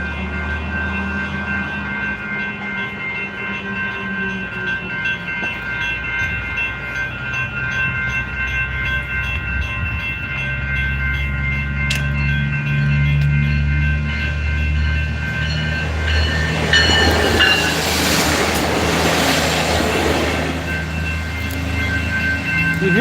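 A train rolling past with a rumbling, clattering approach that swells and then fades as its pitch drops, loud and close, with no talk over it.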